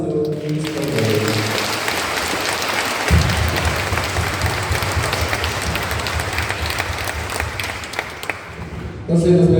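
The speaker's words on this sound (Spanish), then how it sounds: "Fuerte el aplauso a nuestro Cristo Rey" A crowd at the Santa Cruz fiesta in Tacahua gives sustained, loud applause for Cristo Rey, dense clapping that swells and carries on throughout.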